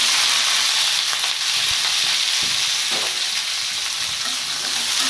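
Potato and eggplant pieces fry together in hot oil in a wok-style pan, giving a loud, steady sizzling hiss with a few soft clunks underneath, with no voices.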